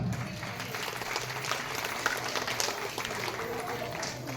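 An audience at a village school function in Iskilla claps together, a steady, even patter of many hands held at moderate level throughout, with some voices mixed in.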